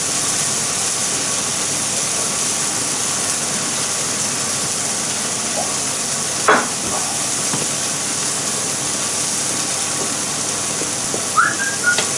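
Skinless salmon frying in a little oil in a non-stick pan, giving a steady bright hiss and sizzle throughout with a few brief sharper pops and spits, close up and with no talking.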